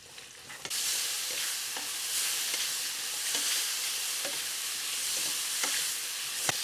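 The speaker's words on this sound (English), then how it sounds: "Next, I'm going to go in with the mushrooms, and we're going to do the same, except for we're going to cook those until they are soft" Mushrooms fry in a pan until soft, giving a steady broadband sizzle with periodic scraping stir strokes, close and continuous without talk.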